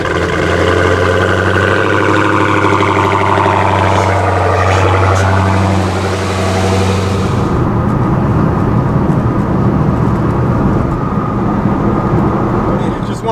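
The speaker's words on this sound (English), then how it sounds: "let's do a cold start and let's get going" Cold start of a Procharged Dodge Scat Pack, with a loud engine rising through a rough, layered roar, then settling into a harsh, steady idle rumble.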